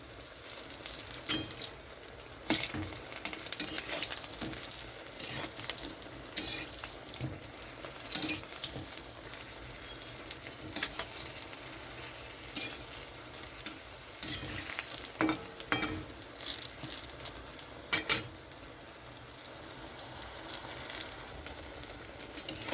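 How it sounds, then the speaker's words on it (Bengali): Eggplant fries in oil with a continuous, fairly quiet sizzle, broken by occasional sharper clicks and clatters from stirring or handling in the pan across the long stretch, with no talking. "বেগুনটা ভালো করে ভেজে নিতে হবে এরকম করে।"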